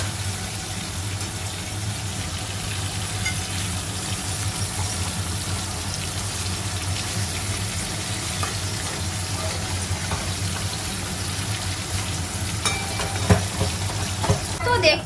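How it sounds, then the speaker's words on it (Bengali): Pieces of hilsa fish fry in hot oil as they are flipped one by one, giving a steady, fairly loud sizzle with a few sharper clatters near the end and no talking. "এবারে আস্তে করে আমি এটাকে একটা একটা করে উল্টিয়ে নিয়ে তুলে নেব, এই মাছগুলো বেশি ভাজা হবে না"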